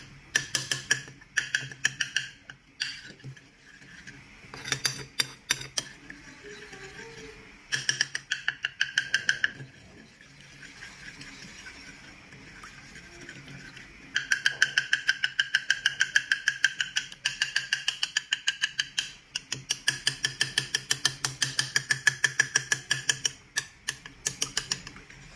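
Egg with salt and black pepper being whisked by hand in a bowl, a fast, steady run of close tapping clicks coming in long bursts with short pauses, fairly loud and alone.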